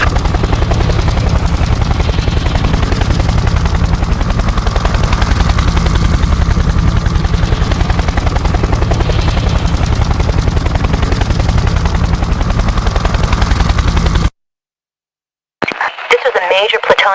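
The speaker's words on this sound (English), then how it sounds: "Eck's escaped. Flying off in a helicopter." A loud, steady helicopter rotor drone from a Project IGI video game cutscene, continuous whirring thump filling most of the clip, then a sudden cutoff to silence before a short burst of game sound resumes.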